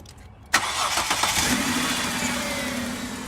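A 2003 Kia Sorento with a misfire cranks and fires up after a short pause, then settles into a steady close idle.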